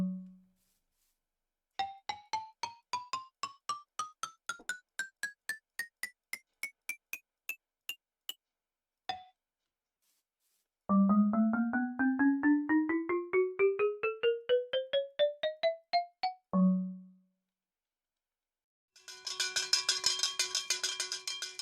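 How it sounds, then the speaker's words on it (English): Minecraft note blocks play rising scales of bright, bell-like xylophone tones, first a crisp wooden-sounding run of separate notes, then the iron xylophone's ringing metallic notes, each run climbing steadily in pitch with short pauses between. "A normal xylophone, and the iron xylophone."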